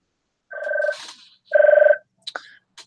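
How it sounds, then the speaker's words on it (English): A phone rings in two short bursts of warbling electronic tone, loud and close, followed by a few faint clicks in an otherwise quiet room. "And there's my phone already this morning."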